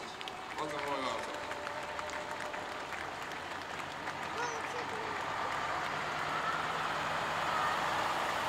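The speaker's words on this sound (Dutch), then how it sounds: "Je mag de chauffeur een warm applaus geven." Audience applause for the driver of a vehicle at a military parade marking 70 years of liberation, a steady wash of clapping beside an idling engine, with a voice talking over it.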